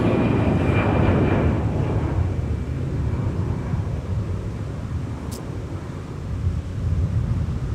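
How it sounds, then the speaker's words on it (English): A Delta Airbus A320 taxiing at Minneapolis–St. Paul gives a steady low jet rumble and hiss, fairly distant, with some wind buffeting the microphone and no talk. "And on the move there is Delta 822 Airbus A320 in charge of a flight to Raleigh-Durham."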